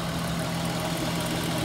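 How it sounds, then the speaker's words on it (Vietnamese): A car engine idles steadily after being started on a roadside following a breakdown repair and a refill of coolant, a continuous close low rumble with a faint knocking texture and no talk. "Và bây giờ mình nổ máy xe đó"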